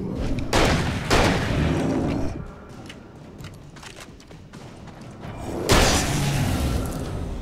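Sharp bursts of gunfire in the video game Alan Wake crack out in two quick volleys, a quieter stretch of mechanical clicks and rattles, then another loud burst of shots.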